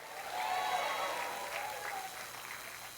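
A church congregation claps loudly during a sermon, a dense sustained burst of many hands with a faint undertone of shouting and cheering, steady throughout and heard from a distance.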